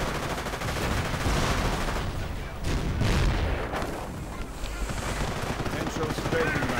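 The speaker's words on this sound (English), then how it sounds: "And a Henschel strafing run for Chains" Henschel aircraft strafing run in a World War II strategy game match, a dense burst of rapid machine-gun fire and booming impacts rolling across the battlefield, with a commentator's voice faintly under the noise.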